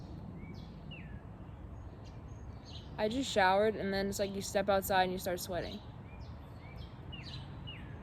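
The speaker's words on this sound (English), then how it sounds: "The lovely birds." Outdoor birdsong with short chirps and tweets scattered throughout, moderately near, running under a voice that talks in the middle of the clip.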